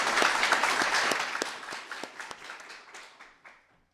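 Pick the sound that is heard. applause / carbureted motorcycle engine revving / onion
applause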